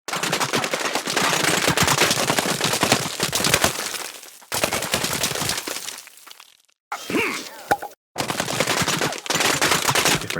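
Rapid bursts of bullet impacts from Plants vs Zombies Garden Warfare 2 striking wood and corn surfaces, dense rattling volleys loud and close, broken by brief silent gaps, with no talking.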